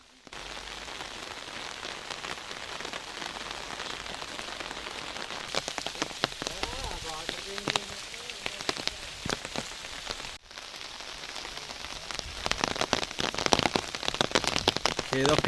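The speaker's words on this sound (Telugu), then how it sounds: "వర్షం అయితే పడుతూ ఉంది." Steady rain falling across a botanical garden, a dense, even patter on leaves and surfaces that carries on without a break and gets heavier toward the end.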